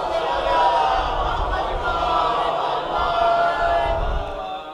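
Crowd at a majlis loudly raising salawat slogans, a dense wash of many voices calling out together in swelling waves, continuous and close throughout.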